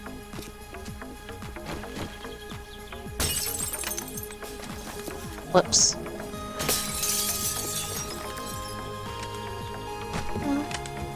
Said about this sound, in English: Just break through the glass in the middle.